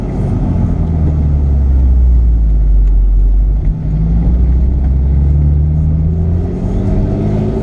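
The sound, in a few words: Porsche 911 Carrera 4S Cabriolet engine revving, exhaust popping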